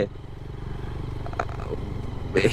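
A motorbike rides over a rough brick-paved hill road on Konglak hill, its engine running steadily and close with low rumbling pulses, a brief clatter near the end.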